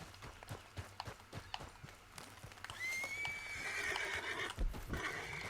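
A horse in Red Dead Redemption 2 whinnies loudly and close for about three seconds, following a run of sharp clip-clop hoof beats and thuds.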